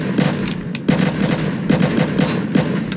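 Rapid repeated gunfire in a video game raid, steady bursts of shots aimed at a building, loud and continuous throughout.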